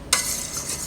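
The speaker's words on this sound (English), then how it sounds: "stirring while you pour the soya milk in" A brief scrape as a utensil starts stirring eggs and unsweetened soy milk in a pot, followed by a soft, steady swishing hiss.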